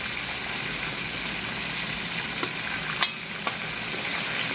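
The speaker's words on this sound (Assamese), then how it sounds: "মাছ ফ্ৰাই কৰিছোঁ মই ফ্ৰাই কৰি আছোঁ মাছ বৰ্তমান" Fish frying in a pan gives a steady, close sizzle that runs the whole time, with a few faint clinks or stirring taps near the middle and no talking.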